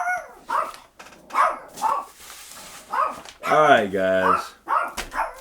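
Dogs bark repeatedly nearby in short sharp yaps, mixed with a longer whining bark, while someone speaks briefly between them.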